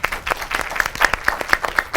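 An audience at a climate change workshop claps steadily, the individual hand claps distinct and evenly paced, fairly close and moderately loud, with no talk over it.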